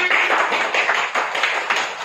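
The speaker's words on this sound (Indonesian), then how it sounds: "Ya, kasih tepuk tangan" A classroom group applauds, giving a dense, even burst of many hands clapping close by for about two seconds.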